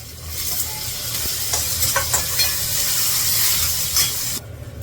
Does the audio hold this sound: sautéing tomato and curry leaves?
yes